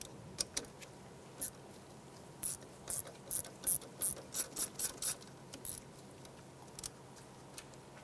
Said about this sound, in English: Using an 8mm socket, we're going to go ahead and remove the bolt holding the ABS sensor into the hub